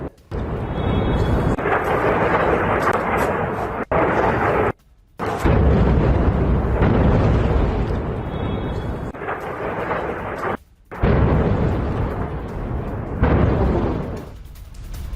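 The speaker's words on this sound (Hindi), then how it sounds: "मेहराबाद हवाई अड्डे के पास भी धमाका हुआ, धमाकों की आवाज सुनी गई" Explosions near Mehrabad airport in Tehran during the Iran-Israel war sound as loud, sustained rumbling blasts, broken by a few brief silent cuts, with heavy low roar filling most of the stretch.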